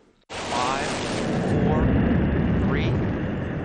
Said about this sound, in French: La navette spatiale américaine s'est arrachée du sol de Cap Canaveral en Floride